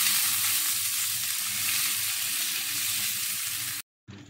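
Boneless salmon sizzles loudly in hot oil in a pan, a dense steady frying hiss that cuts out briefly near the end and then resumes.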